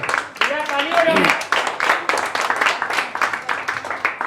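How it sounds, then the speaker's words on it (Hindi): An open-mic audience at a comic poetry night in Kanpur claps hard, a thick, continuous burst of applause with clustered hand strikes and voices calling out over it. "पसंद आया जोरदार तालियां चाहते हैं आप सबसे"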